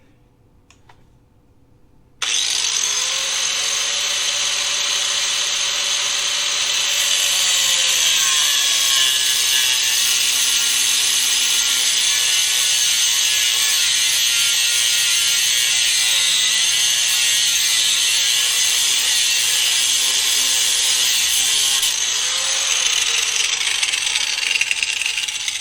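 An inexpensive Warrior angle grinder with a cutoff wheel slices through the coils of Geo Tracker coil springs, a loud, steady high-pitched whine and grinding screech that holds for over twenty seconds after a short quiet start.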